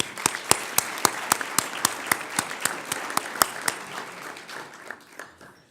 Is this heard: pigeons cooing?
no